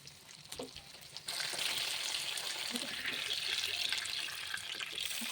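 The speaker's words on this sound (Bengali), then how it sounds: "তারপর কড়াই কিছুটা তেল দিয়ে মাছগুলো একে একে ভেজে নেব।" Pabda fish hit hot oil in a kadai and settle into a steady, hissing sizzle that starts abruptly after a quieter moment and continues evenly throughout.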